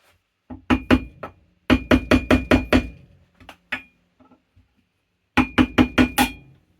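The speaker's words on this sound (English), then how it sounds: "I inserted the screwdriver and give it some gentle taps with the hammer" Sharp metallic taps ring out in quick bursts of four to six, a hammer striking a screwdriver on a skateboard truck axle up close, with short pauses between groups.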